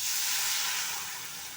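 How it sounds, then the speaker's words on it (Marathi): Kokum and gram flour mixture poured into hot tempering sizzles with a loud, steady hiss that eases off slightly toward the end. "हे जे आपण मिश्रण करून ठेवले कोकम आणि डाळीचं पीठ ते मिश्रण आता ह्या फोडणीमध्ये छानपैकी घालायचं आहे"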